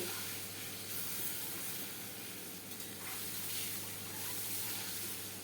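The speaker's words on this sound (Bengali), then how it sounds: "এবার আমি তার মধ্যে দিয়ে দেবো একটু হলুদ আর ডিমগুলো তার মধ্যে আমি ভেজে নেব" Eggs frying with turmeric in hot oil make a soft, continuous sizzle with a light crackle, quiet and steady, and no voices.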